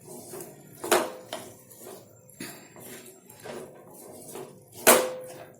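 A utensil stirs finely chopped cabbage and mixed vegetables in a pan, making soft scraping and rustling sounds punctuated by two sharp metallic clanks against the pan.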